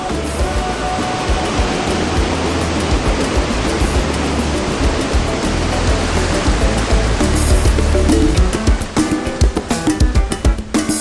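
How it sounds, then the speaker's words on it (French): Moike waterfalls near Thian in Cameroon roar in a steady, dense rush of falling water that fills the whole clip, loud and close, with no voices. "Les cascades des chutes de Moike, près de la ville de Thian, sont un régal pour les yeux."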